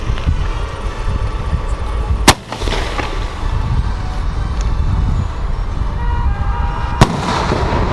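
Diwali firecrackers bursting outdoors: two sharp, loud cracks stand out, one early and one late, over a constant rumble of distant blasts and street noise.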